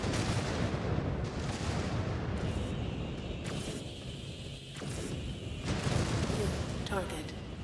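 Artillery barrages rumble and boom in MechWarrior 5: Clans, a dense, continuous roar of heavy fire with distant blasts layered together, loud and sustained throughout.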